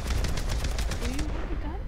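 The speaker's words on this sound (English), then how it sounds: "They're shooting at us." Bursts of gunfire in Beyond: Two Souls rattle steadily for over a second, loud and close, then fade as a low engine-like drone carries on underneath.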